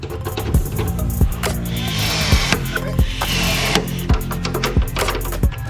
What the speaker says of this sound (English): Aluminum chassis are so easy to drill through.